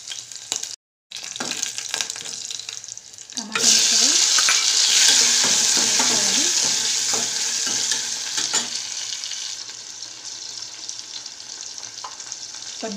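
Mustard seeds, cumin and green chillies crackle in hot oil as a tempering for pepper rasam. After a brief cut, a loud, close sizzle bursts in, then fades gradually, with scattered spatters and stirring taps.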